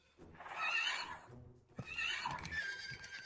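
Horses neigh loudly in two long whinnies, one after the other. A thud and faint hoof clatter fall between and under the calls.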